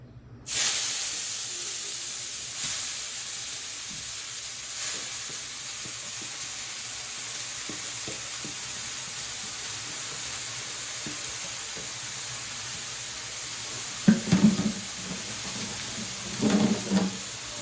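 Chopped kalai greens frying in oil in a pan, a steady close hissing sizzle that carries throughout, with a few louder bursts of stirring and crackle near the end and no talk.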